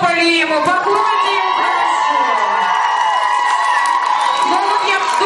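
A crowd of children and adults at a junior Mister and Miss contest at a summer camp cheers and shouts loudly and steadily, with whoops and a bright, continuous roar filling the whole stretch.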